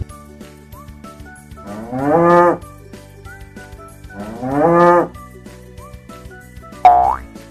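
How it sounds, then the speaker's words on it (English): An ox moos twice in long, loud, drawn-out lows, then gives a shorter third call, each standing alone against a quiet background. "Ox says moo, moo."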